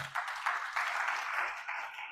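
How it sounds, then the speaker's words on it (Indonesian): Congregation clapping hands for God at a church service, a short, sustained round of applause with a few stronger bursts, steady and fairly close. "Tepuk tangan bagi Tuhan dulu."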